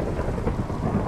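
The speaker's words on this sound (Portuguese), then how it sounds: "Chuva com trovão em Utopia." Thunder rumbles low and continuous with steady rain in the Utopia world of a video game, a dense, loud storm bed with no voices over it.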